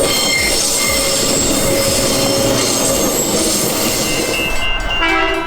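Perth suburban electric train of A-series rolling stock on the Midland line, its wheels squealing loudly and continuously against the rails throughout, with steady rolling noise and no talk.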